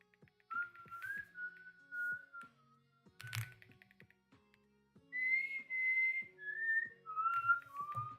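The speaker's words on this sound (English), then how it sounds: "So that whistling might have been really loud." A whistled melody carried in several sustained phrases with short pauses between them, fairly clear and close, with faint clicking underneath and no speech.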